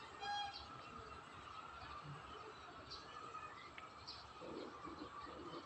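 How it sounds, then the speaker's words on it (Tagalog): Faint bird calls rise over steady outdoor background noise in a garden with papaya trees, a few short calls scattered through the stretch. "Ibon kay guys."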